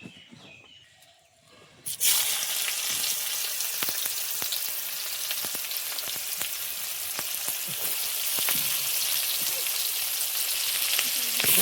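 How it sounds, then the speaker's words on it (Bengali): Chopped onions hit hot oil in a pan for chicken chow mein and burst into a loud, steady sizzle after a quieter start, with faint stirring clicks over the frying. "এবার আমি পেঁয়াজ কুচিটা দিয়ে দেবো।"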